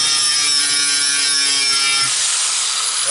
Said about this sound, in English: Take my sanding wheel, because I still need to clean off this edge a little bit.